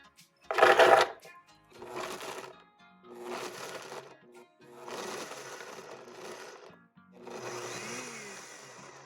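Electric blender chopping a cup of pecans for snowball cookies, running in five separate loud pulses of a few seconds each with short pauses between, the first burst harshest and most rattling.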